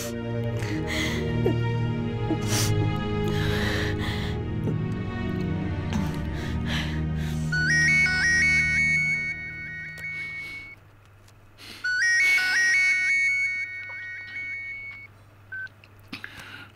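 A mobile phone rings for an incoming call, two bursts of a repeating electronic melodic ringtone with a pause between, following a tense scene with background music and sighing.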